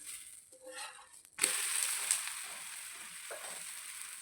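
Thalipeeth flatbread frying on a pan, flipped after a couple of minutes covered: a quiet hiss jumps into a loud, steady broadband sizzle at the flip, continuing evenly and close without speech.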